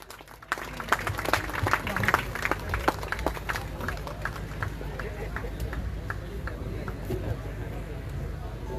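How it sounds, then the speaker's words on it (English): Audience applause at a prize distribution ceremony, a sustained round of clapping from a sizeable crowd starting abruptly and continuing steadily, with a voice over a loudspeaker on top. "Please put your hands together, everybody."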